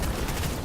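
A ship-mounted gun in a video game fires in a loud, dense rumble lasting under a second, with no voices.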